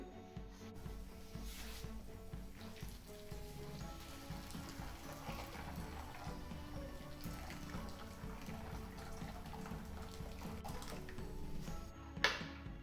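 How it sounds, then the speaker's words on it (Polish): Boiling water poured over almonds for homemade marzipan, a steady close splashing pour that runs throughout with a small knock near the end. "Zalewamy nasze migdały wrzątkiem."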